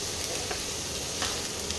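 Onions sizzle and crackle in a hot pan, with light stirring scrapes over a steady frying hiss.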